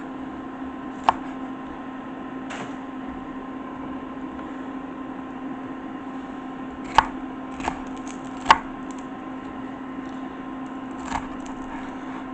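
Knife chopping bell pepper on a board: a handful of sharp, isolated cuts spaced irregularly, fairly close, over a steady hum from a pan of oil heating nearby.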